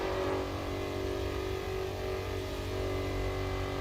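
An American V8 race car engine in a racing video game holds a steady, loud droning note with a slight rise and fall in pitch, without any talking.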